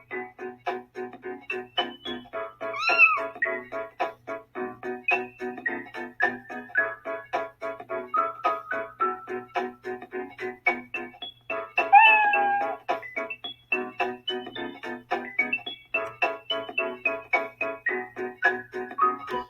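A cat meows over and over for about twenty seconds, its calls close and loud, coming in a continuous series of drawn-out cries with no talking.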